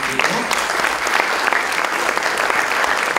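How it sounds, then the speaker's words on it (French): An indoor conference audience applauds panelists after a session, a dense steady wash of clapping hands that holds at full strength throughout without any break. "Je vous demande de les applaudir à nouveau."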